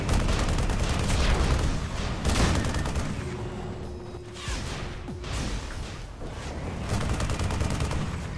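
Chain cannon in the game Tribes Ascend firing long, dense bursts of rapid, loud shots that run almost continuously, with brief pauses and a few mechanical clanks between volleys.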